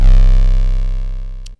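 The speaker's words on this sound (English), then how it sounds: "and then I added another 808" A single long, heavy 808 bass note from a beat rings loud and slightly distorted, slowly fading for about a second and a half before cutting off abruptly.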